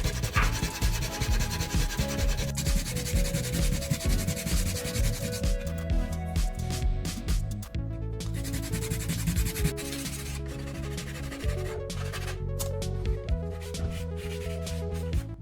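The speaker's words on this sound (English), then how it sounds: "Now use sandpaper to level the surface." Sandpaper is rubbed over a filler repair on a tabletop corner, producing loud, continuous scratchy strokes close by that run steadily throughout without pause.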